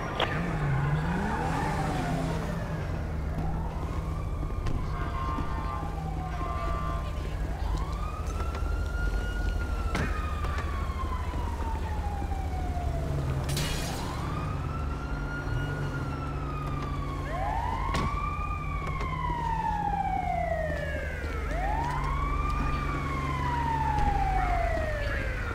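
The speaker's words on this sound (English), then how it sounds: "Ambulance en route responding code 3." Ambulance siren in GTA V responding code 3, wailing up and down repeatedly over steady engine rumble, loud and close throughout, with the pitch rising and falling in regular sweeps.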